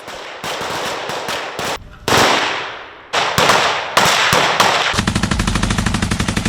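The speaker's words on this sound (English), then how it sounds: "A brutal firefight erupts within the wooded terrain." Gunfire in a firefight in wooded terrain, with loud close bursts of automatic fire broken by short gaps, ending in a fast steady stream of rapid shots, no voices.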